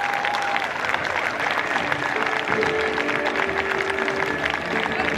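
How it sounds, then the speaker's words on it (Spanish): Spectators at an outdoor Golden Age festival in Salamanca applaud Spanish tercio battle reenactors, a steady, fairly loud wash of clapping with a faint tonal sound threading through it. "¡Un aplauso para los españoles!"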